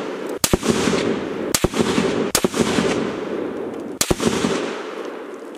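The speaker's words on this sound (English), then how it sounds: "I'm shooting 168 grain Hornaday match Bowtell hollow point" Four loud, sharp unsuppressed rifle shots from a 14.5-inch .308 firing 168-grain Hornady match hollow points at a 100-yard range, irregularly spaced with a broadband crack and reverberant tail after each.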